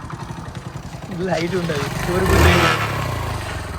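A motorcycle engine runs close by with a steady idle throb, then its rumble swells for a moment, while someone talks over it.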